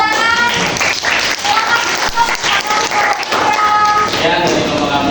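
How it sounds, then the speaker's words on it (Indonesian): Students in a classroom break into applause, a dense wash of clapping hands that carries on steadily for several seconds with a few louder thumps mixed in. "Tepuk tangan."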